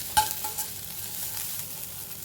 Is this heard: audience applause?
no